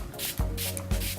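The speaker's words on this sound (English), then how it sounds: "I'm going to use some MAC Fix Plus spray just to go ahead and set everything on my face" MAC Fix Plus setting spray mists onto a face in two quick hissing pumps, close and clear, each spray a short airy burst about half a second apart.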